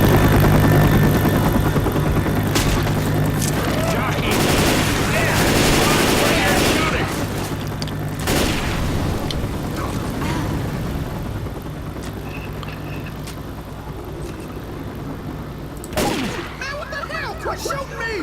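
Bursts of gunfire in Left 4 Dead 2 crackle over a droning helicopter-like rumble, loud early and fading toward the end, with one sharp shot near the close while players talk.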